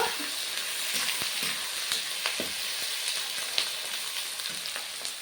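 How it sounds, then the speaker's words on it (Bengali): Chopped onions fry in oil for a mutton curry, a constant bright crackle and sizzle with frequent light scrapes and taps of a stirring spoon, near and uninterrupted by voices. "এইভাবে আমি পেঁয়াজটা ভেজে নিয়েছি"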